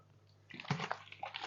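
Water poured into a bottle of blackcurrant energy drink mix, a soft low trickle that swells into louder splashing and sloshing liquid, close by with no talk.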